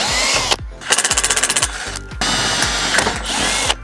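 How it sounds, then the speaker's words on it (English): A power drill drives screws into a DIY cable railing, whirring loudly up close in short bursts with a rapid, rattling clatter partway through and brief pauses between runs. "holding this guy on while I'm screwing so that the railing doesn't fall off"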